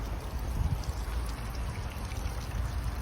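A bulldog puppy splashes in a small swimming pool, making a continuous close sloshing, pouring-like water sound with no pauses.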